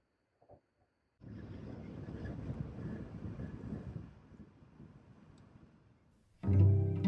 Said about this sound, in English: Windy, very windy.